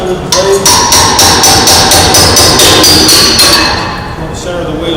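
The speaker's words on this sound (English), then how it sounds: "remove blades by gently tapping on the tail end of the blade" Firm, evenly spaced metallic taps, about a dozen in a steady rhythm, strike the tail end of a blade on a wheel blast machine to knock it out of its dovetail slot, loud and close.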